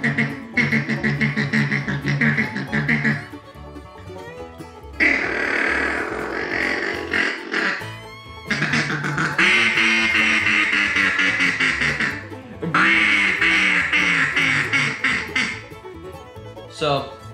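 A Duck Commander Max 5 duck call blown in repeated bursts of raspy quacking, several rhythmic series separated by short pauses, loud and close.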